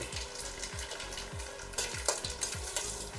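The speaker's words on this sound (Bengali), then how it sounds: "সরষের তেলটা গরম হয়ে গেছে, দিয়ে দিচ্ছি ফোড়নে 4টে শুকনো লঙ্কা আর কালো জিরা।" Four dried red chillies and nigella seeds sizzling in hot mustard oil, a loud close crackle with soft repeated stirring strokes and no speech.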